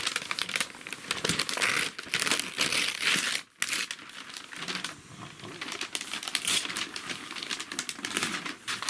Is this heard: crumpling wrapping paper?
yes